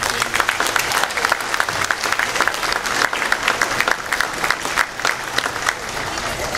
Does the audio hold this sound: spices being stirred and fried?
no